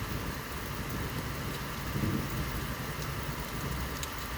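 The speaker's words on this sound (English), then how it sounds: "it is actually raining" Steady rain hisses continuously, with a faint low rumble of thunder swelling briefly in the middle.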